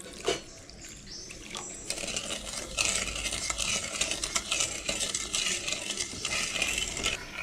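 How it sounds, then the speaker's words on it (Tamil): Sugar and water being stirred in a pan over a medium flame while making adhirasam, giving a continuous close scraping and clinking of a spoon against metal that keeps a steady rhythm. "கை விடாமல் இந்த மாதிரி கிளறிக்கிட்டே இருக்கணும்."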